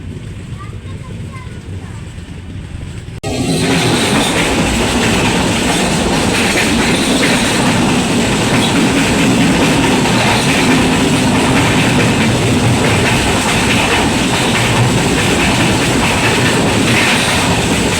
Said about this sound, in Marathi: तर आपल्या समोर जी गाडी दिसते ती आहे 10106 सावंतवाडी दिवा पॅसेंजर